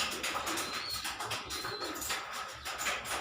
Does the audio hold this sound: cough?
no